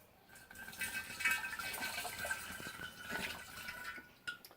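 Pear brandy mash poured from one container into another, a steady splashing, gurgling liquid pour that runs close and fairly loud for several seconds, with a brief spatter near the end.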